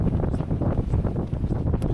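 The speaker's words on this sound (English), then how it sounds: "it is windy" Strong gusting wind at Lake Oberon buffets the microphone in a continuous low, rumbling roar, with no talk over it.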